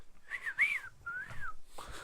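Whistled imitation of a Star Wars droid's beeps and chirps, three short rising and falling warbling phrases with gaps between them, moderately loud and close, with no talk.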